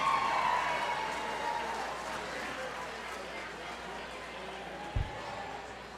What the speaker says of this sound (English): Big round of applause for our team treasurer.